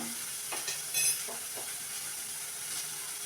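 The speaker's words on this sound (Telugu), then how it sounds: "చిన్న సైజు టమాటాలండి రెండు వేసుకొని వేగనివ్వాలి ఫ్రై చేసుకోవాలి" Two small tomatoes fry for brain curry, giving a steady close hiss of sizzling oil throughout, with a few faint stirring clicks over it.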